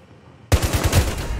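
Burst of rapid automatic gunfire in Rainbow Six Siege, loud and close, starting abruptly after near silence with several punchy shots in quick succession.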